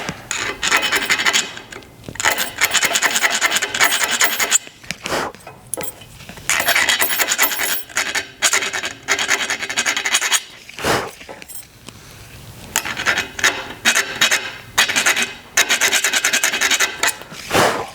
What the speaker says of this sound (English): I'm going to clean that burr up with a small file